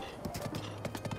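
A horse's hooves clip-clop at a steady trot in the video game Zelda Breath of the Wild, a fairly quick, even run of soft thuds, faint and close, with low game sound underneath.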